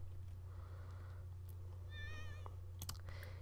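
A cat in The Sims 4 Cats and Dogs gives a short, faint wavering meow over a low steady hum and soft background game sounds.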